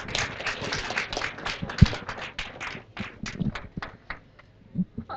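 An audience at a job fair claps for presenters from an education institute: a busy patter of hands that thins into scattered, separate claps and fades toward the end.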